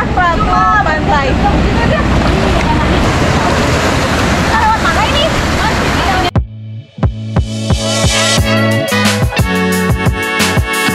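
Ocean surf rolls onto a beach at Nusa Dua, Bali as a loud, steady wash with wind noise on the microphone, then breaks into choppier bursts partway through.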